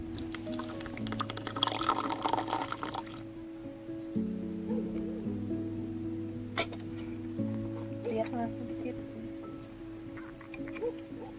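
Freshly brewed tea poured from a pot in a rustic home kitchen, a thin trickling stream with faint clinks of cups, quiet and close, with soft background hum.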